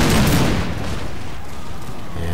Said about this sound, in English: You could also see my guys taking some artillery strikes there on my right center.